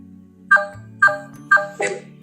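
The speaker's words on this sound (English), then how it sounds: "Did you hear the notification you got from VoiceOver?" Apple VoiceOver plays a notification chime of three quick bright tones in an even rhythm followed by a fourth, softer sweep, clear and close over a low steady hum.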